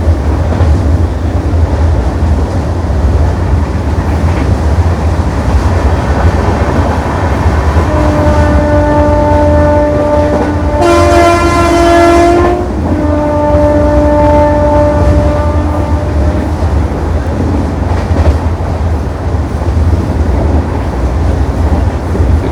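Two trains pass each other on an Indian railway line, with a steady loud rumble of wheels and carriages and a long two-tone horn blast sounding partway through.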